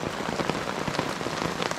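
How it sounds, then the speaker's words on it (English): Heavy rain pelts a tent shelter at night on a windy lakeside canoe trip, a dense, steady patter of drops drumming close on the fabric with no voices. "the weather's quite intense. The wind is strong, the waves are crashing, and the rain's much harder."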